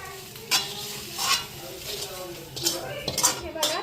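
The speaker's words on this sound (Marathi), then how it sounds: "हे बघा ते तूप टाकलंय आणि हिरव्या मिरच्या ना परतून घेते." Green chillies sizzle and fry in ghee in a pan, with steady crackling broken by a few louder bursts of stirring and metal scraping, close and moderately loud.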